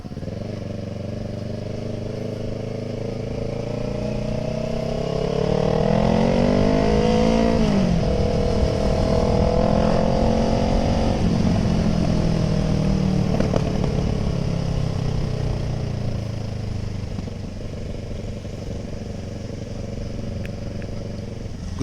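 Kawasaki ER6N motorcycle riding at an easy pace, a steady engine drone rising under throttle around the middle and settling back, with wind noise throughout and no talking.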